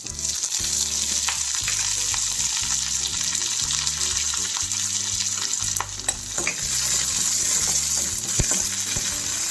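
Urad dal, cumin, dried red chillies and curry leaves crackling and sizzling in hot oil, a steady close frying hiss with occasional sharp pops and soft stirring clinks.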